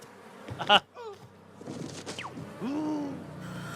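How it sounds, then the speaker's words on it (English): Mutated, weaponized bees from a video game trailer buzz in short bursts amid other scattered effects and a sharp gasp-like sound, with a rising tonal swoop near the end. "Releasing mutated weaponized bees to eradicate Black Ops."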